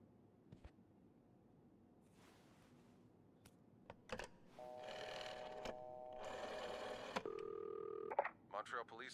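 A video-game telephone at a reception desk is dialed, with a few clicks and button presses followed by steady dial tones and ringing, faint and close, with a voice speaking briefly.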